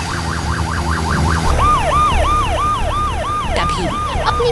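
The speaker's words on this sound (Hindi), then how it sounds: "तभी अपनी पूरी रफ्तार के साथ एक लाल दमकल की गाड़ी आग की लपटों को चीरती हुई आगे बढ़ती है।" Loud wailing siren of a red fire engine racing through a burning city, its rising and falling tones sweeping over steady engine rumble, with a second siren pattern joining partway through.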